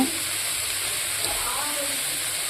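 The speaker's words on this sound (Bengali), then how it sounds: "তো ভালোভাবে এবার নাড়াচাড়া করে নেব শাকটা" Red amaranth greens are stir-fried in a pan, giving a steady soft sizzle and hiss with faint scraping from the stirring, continuous and fairly close throughout.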